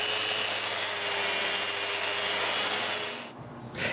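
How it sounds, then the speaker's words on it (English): Planed wood pieces are sanded by hand in steady, continuous abrasive strokes, a close, even rasping hiss that stops abruptly near the end. "So, before I glue both pieces together, I sand them."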